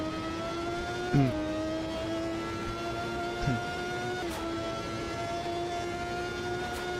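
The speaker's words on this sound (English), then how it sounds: "This has traction control, you can hear it." A high-pitched racing car engine in a video game holds a steady drone, with brief stuttering cuts around shifts as the traction control intervenes, continuous and close.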